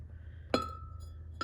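A clear glass dish on a Scentsy wax warmer gives two bright clinks, a sharp ringing one followed about a second later by a softer tap, over a low steady hum.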